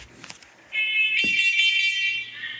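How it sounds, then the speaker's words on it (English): An SC7010VB smoke and carbon monoxide alarm sounding, a shrill, steady electronic tone that starts abruptly after some faint handling noise and holds loud and close to the end. "SC7010VB sounding off as well"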